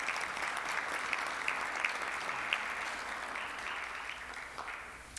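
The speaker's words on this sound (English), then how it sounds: "Let's give them a round of applause." Room of Rotary club members clapping for graduates at a meeting, a steady round of applause with a few sharper individual claps, gradually thinning out toward the end.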